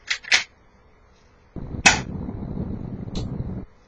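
An airsoft gun fires with sharp snapping cracks, followed by a hollow, rumbling clatter from the shot hitting an RV target downrange.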